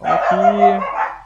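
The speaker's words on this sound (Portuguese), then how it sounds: "Desculpa pelos cachorros, esses cachorros não tem o que fazer da vida." Dogs bark and whine close by in a short, loud burst, overlapping a man's brief spoken phrase.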